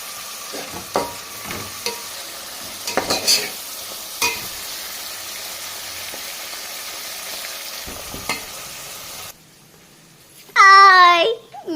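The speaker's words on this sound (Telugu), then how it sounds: "నూనె అయితే బాగా వేడైంది కదండి ఇంక ఉల్లిపాయలు కట్ చేసుకున్నాం కదా ఉల్లిపాయలు వేసుకుందాం మెంతికూరను వేసుకుందాం" Onions and fenugreek leaves frying in hot oil, a steady sizzle with occasional stirring clatters, then a brief quiet gap and a voice near the end.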